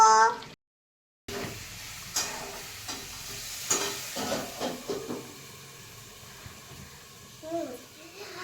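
Chicken cooking in a pan, soft sizzling and scraping stirs with intermittent clinks, a voice speaking briefly over it, quiet and close.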